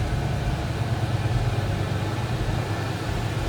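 A 1965 Ford Mustang convertible with a 289 V8 idling close by, a steady, even low rumble with no revving and no voices.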